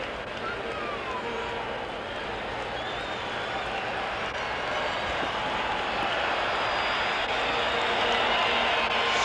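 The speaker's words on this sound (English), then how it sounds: "Crowd reacting." A baseball stadium crowd at a 1981 Dodgers–Astros game gives off a steady, dense roar that swells slightly louder toward the end, with no single voice standing out.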